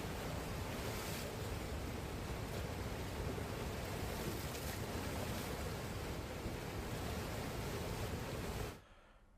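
Floodwater waves in Bihar after heavy rain, a dense steady rushing wash of churning water without pause, loud and close, cutting off abruptly at the end.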